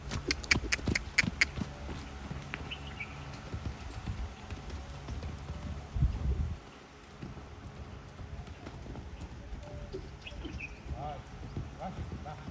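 A horse's hooves clip-clop in a quick, steady rhythm, close and fairly loud, stopping abruptly near the middle before quieter ambient sounds take over, with a voice calling to the horse.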